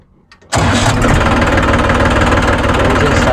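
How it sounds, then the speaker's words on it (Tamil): After a brief quiet moment a Holland tractor engine cranks and catches, then runs loud and rough at a steady idle close by. "இன்ஜின் ஸ்டார்ட் ஆகிடுச்சு"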